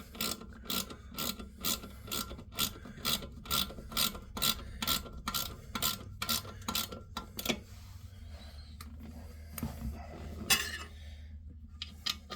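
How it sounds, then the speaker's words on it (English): A ratchet wrench turning toilet bolts in tiny turns clicks in short, evenly spaced bursts, close and crisp, then slows to a few scattered clicks and scrapes. "it might sound like I'm actually ratcheting a lot, but it's just tiny little turns"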